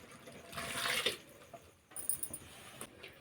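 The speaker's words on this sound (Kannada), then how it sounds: "ಸ್ವಲ್ಪ ನೀರು ಬೆರೆಸ್ಬಿಟ್ಟು" Water splashes into masala in a hot cooking pan while making chicken dum biryani, a brief hissing rush under a second long, followed by softer kitchen clatter.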